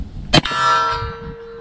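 A single bullet strikes an MGM steel gong target at a shooting range, giving one sharp metallic clang that rings on with a long, slowly fading tone.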